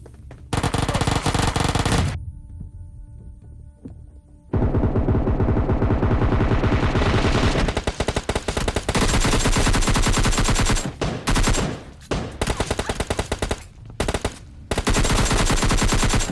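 Dense automatic gunfire from a shooting video game, with long sustained bursts and a short pause near the start, loud and continuous with brief gaps toward the end.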